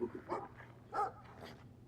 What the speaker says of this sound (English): Is he like a big Rottweiler?